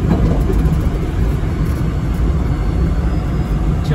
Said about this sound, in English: So I am at the phase of dealing with road noises.